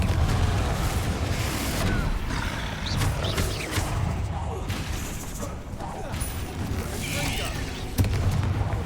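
Confringo fire-blast spell cast in the Hogwarts Legacy game during a troll fight, heard as a dense roar of booming blasts and rumble layered over battle noise, with sharp bursts near the start and around the eighth second.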